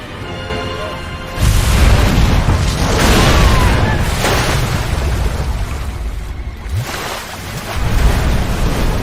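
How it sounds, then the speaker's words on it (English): A ship breaking apart and sinking into the ocean in a Resident Evil CG cutscene: loud roaring rush of water and wind with deep rumbles and surging swells throughout. "Then we get a CG cutscene of the entire ship falling apart into the ocean."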